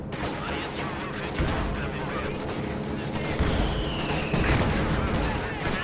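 Artillery fire from 152mm shells in the strategy game Company of Heroes 2, a continuous rumble of booms and blasts with a voice speaking over it.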